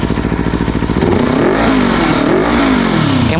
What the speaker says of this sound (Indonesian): Kayak motor sport suaranya. Tapi ini karena knalpotnya udah di custom.